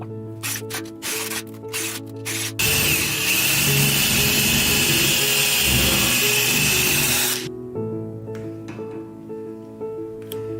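A power drill boring 1/4 inch holes into a wooden frame, one loud sustained whine of several seconds between quieter stretches of clicking and handling.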